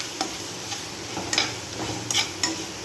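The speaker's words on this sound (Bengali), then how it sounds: "আর দেবো হচ্ছে হলুদ দেবো, দিয়ে একটু নেড়ে দেবো।" Turmeric is stirred into dragon chicken frying in a pan, giving a soft steady sizzle punctuated by a few sharp scrapes and clinks of the spoon against the pan.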